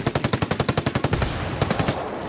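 Rapid automatic gunfire in Ghost Recon Wildlands, a fast, evenly spaced burst of a dozen or so loud shots followed by a few scattered shots amid rumbling game noise.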